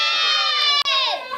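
A crowd of children screaming with excitement before a marshmallow battle, a loud, sustained, high-pitched chorus of shrieks that briefly cuts out and then trails off.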